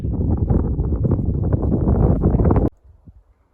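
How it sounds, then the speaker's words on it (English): Cold wind on the Cadillac Mountain overlook in Acadia National Park buffets the microphone with loud, close, continuous rumble and gusts, then cuts off abruptly, leaving near quiet. "Don't even mind the cold wind."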